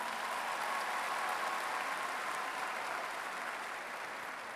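A large crowd at a North Carolina A&T State University spring commencement claps steadily for honored guests, a broad, even wash of applause heard from a distance without talk.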